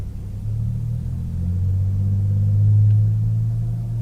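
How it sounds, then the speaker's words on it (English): A truck rolls past on a road with a bicycle lane beside a right-turn lane, a steady low engine rumble that swells toward the middle and stays fairly close throughout, with no voices. "That's a nice truck."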